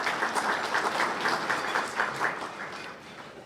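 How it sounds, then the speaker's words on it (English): Breakfast guests at Elmhurst College applaud a District 205 school board member, Beth Hostler, with a steady round of clapping that softens slightly toward the end. "So a round of applause for her."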